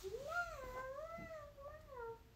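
A young girl imitates a cat's meow, holding a long, wavering, tonal mewing call for about two seconds with no other talk.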